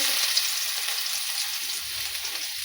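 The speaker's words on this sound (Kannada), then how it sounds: "ಈಗ ಸಾಸಿವೆ ಹಾಕ್ತೀನಿ ನೋಡ್ರಿ. ಈಗ ಬೆಳ್ಳುಳ್ಳಿ ಹಾಕ್ತೀನಿ" Garlic, mustard seeds and cumin sizzling in hot oil in a pan for a Kannada-style vegetable palya, a steady close crackling hiss with no talk.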